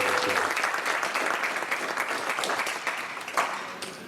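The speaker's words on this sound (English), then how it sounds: "So let's give them all a round of applause." Applause from an audience at a band concert, a dense steady wash of clapping that carries on for several seconds at even loudness and fades slightly toward the end.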